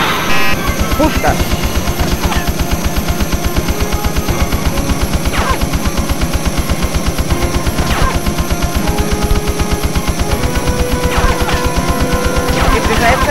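Rapid rhythmic cannon fire from an F-16 fighter in the PlayStation flight game Eagle One: Harrier Attack, a loud dense stream of shots running throughout with engine roar and cockpit voice warnings mixed in.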